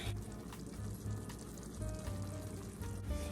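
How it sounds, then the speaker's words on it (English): Ground meat for taco spaghetti cooking in a pot, a low continuous sizzle with faint crackles and occasional stirring, fairly quiet and steady, with no talking. "continue to let the meat cook thoroughly"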